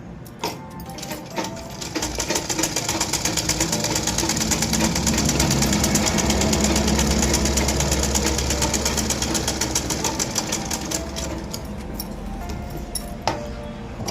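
A sewing machine stitches a cross-cut blouse, a fast, steady mechanical whir with rapid needle ticking that builds up, runs continuously and slows near the end, with occasional clinks and faint background voices.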